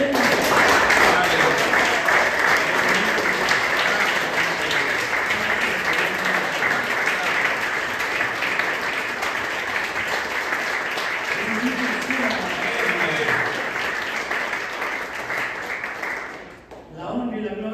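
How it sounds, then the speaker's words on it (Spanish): A church congregation claps steadily for over fifteen seconds, a dense, even wash of applause that fades abruptly near the end. "Podemos darle palmas a Él."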